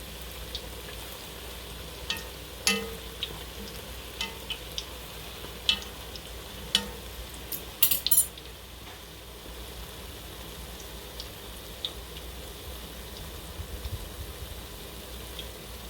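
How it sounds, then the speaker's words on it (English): Belgian smoutebollen donut batter frying in hot oil, a soft continuous bubbling sizzle with scattered close clicks and taps from forks turning the dough, one brief louder clatter in the middle. "we just flip them around and cook the other side, or fry the other side"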